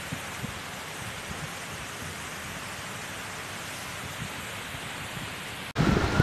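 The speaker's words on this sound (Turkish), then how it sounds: "fırtına" Rain pours in a thunderstorm in Amsterdam, a steady broadband wash with low rumbling underneath, ending in a sudden louder burst near the close.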